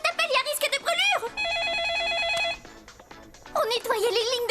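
A telephone rings with a steady electronic trill between animated cartoon voices speaking French before and after.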